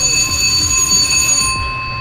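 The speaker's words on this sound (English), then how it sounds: "The door just lifted up, slid open, went through the tipsy, set off the alarm." A missile silo alarm at a Titan II complex rings as the silo door lifts and slides open: a steady, continuous electronic tone with bright stacked harmonics, loud and unbroken throughout, with low mechanical rumble beneath it.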